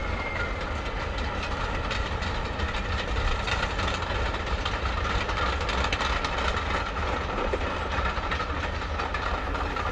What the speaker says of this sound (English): We get trains here, which is not a steam train